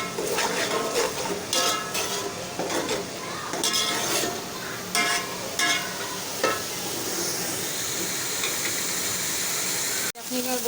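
Cardamom and garam masala are stirred into beef nalli biryani in a large pot at a Karachi street food stall, with steady scraping and clanking of a ladle over a sizzling hiss and a voice talking underneath.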